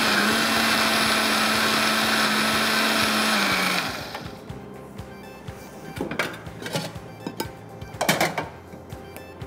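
A kitchen blender runs loud and steady for about four seconds, then cuts off, leaving quieter clatter and handling noises, with preparation for a cranberry chicken dish.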